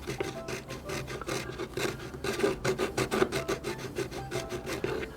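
The inside of a soft vinyl eye socket on a 1/3-scale doll is carved away with quick, rhythmic rasping strokes, close and continuous.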